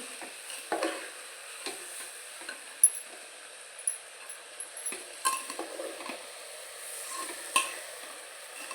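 Rice is stirred into a sizzling spice tempering for masale bhat, with a soft hiss under repeated spoon scrapes and light clinks against the metal.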